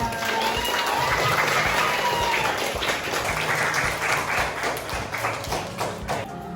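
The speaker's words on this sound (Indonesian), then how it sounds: "tepuk tangan untuk Andira" A class of students claps for a classmate in a school lesson, a loud, busy round of applause that holds steady for several seconds and then thins and tapers toward the end.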